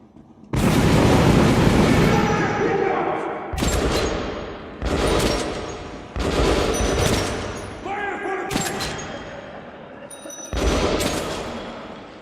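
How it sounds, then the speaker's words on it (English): Assorted firearms blasting at targets in the shooter Metro: Last Light, a series of loud, booming bursts and sustained volleys separated by short pauses, each trailing off in echo. "you can kind of mess around with various guns, see how well you can shoot different targets from a distance"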